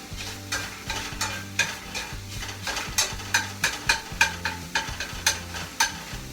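Sausage sizzling in a cast iron pan, with a steady hiss of frying fat and rhythmic scraping strokes of a utensil repeating roughly twice a second, up close.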